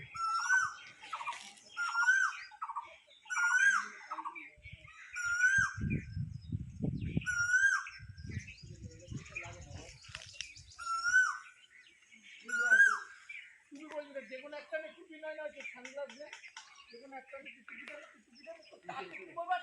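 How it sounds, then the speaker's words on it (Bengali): Koel and parrots calling from a tree in a temple courtyard in Bankura, with repeated clear whistled calls and chattering squawks, while people talk nearby. "শুনতে পেলাম সুমধুর কোকিলের ডাক"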